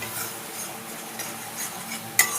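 Spice paste of coriander and cumin powder mixed with water, stirred in a kadai with a soft sizzle and light scraping, ending with a sharp metallic clink from a utensil, no talking.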